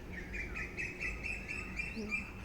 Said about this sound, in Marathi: कोकिळेचं कुजन सुरू झालेलं आहे कितीतरी पक्ष्यांचे आवाज ऐकू येते